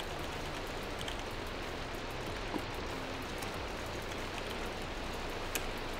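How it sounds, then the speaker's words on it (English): Steady rain hisses in Minecraft, an even wash of noise with faint ticks, at low level with no talking. "let's go ahead and get rid of this this rain."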